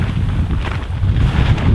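Gusty wind buffets the microphone in a low, rumbling roar that rises and falls without pause.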